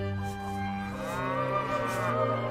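Cattle lowing in the medieval castle-building game Stronghold, a long drawn-out harmonic moo that swells and bends in pitch over a couple of seconds, steady and fairly close, with no talking.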